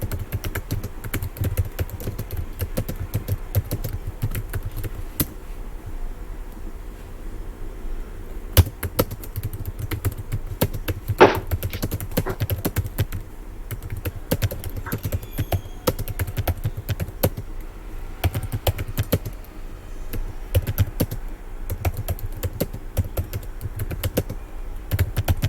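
Someone types steadily on a computer keyboard for a long stretch, with dense, continuous key clicks close to the mic and occasional louder taps. No speech is heard.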